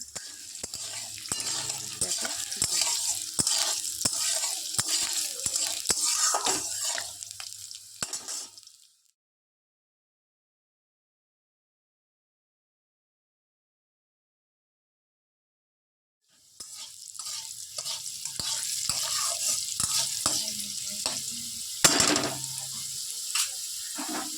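Medium-size potato pieces fry in a pan with a steady, bright sizzle and scattered stirring scrapes, cut off by about eight seconds of silence before the sizzling and stirring resume just as loudly.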